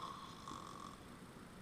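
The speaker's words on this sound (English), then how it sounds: "snoring" A single person snores in a continuous, droning breath, close and moderately loud with no talk.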